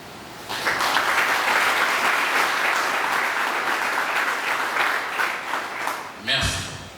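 A roomful of people at an official fiscal-year launch in Kwilu applauds the management committee, a dense, steady clapping that swells at once, carries on for about six seconds, then breaks off into a brief shuffle.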